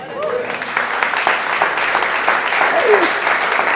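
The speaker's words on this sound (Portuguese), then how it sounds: "Você pode dar um aplauso ao Senhor?" Church congregation applauding the Lord during a sermon, a sustained wash of many hands clapping together, fairly loud and continuous, with some voices mixed in.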